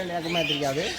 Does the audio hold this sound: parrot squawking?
yes